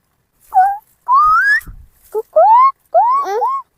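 A person whistles an imitation of a koel's call, a series of four or five short rising, sliding notes with gaps between them, close and clear with no talking.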